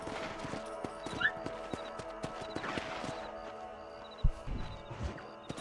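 Horse hooves clip-clopping at a steady walking rhythm in the Western video game Red Dead Redemption, close and continuous, with faint game ambience and a brief thud near the end.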